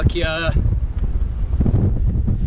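Strong wind in Sri Lanka buffeting the microphone in a constant low roar, with a short tonal whistle at the start and faint background activity.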